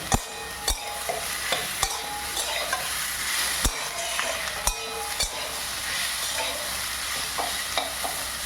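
Rice and spices for a Bengali muri ghonto with fish head are stirred in a sizzling pan, steady frying hiss punctuated by sharp, irregular scrapes and knocks of a spoon against the pan.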